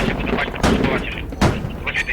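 Two sharp gunshot cracks ring out about a second apart over steady game noise in the video game Squad, on the Gorodok map, with a voice murmuring in the background.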